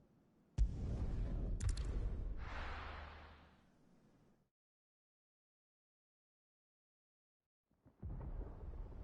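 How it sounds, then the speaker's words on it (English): Thunder in Final Fantasy XVI: a sharp crack followed by a long rolling rumble that swells and fades over a few seconds, then silence before another low rumble starts. "Sounds like thunder."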